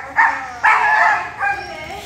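A seven-month-old German Shepherd protection dog gives three loud, close, deep barks in quick succession while working a decoy.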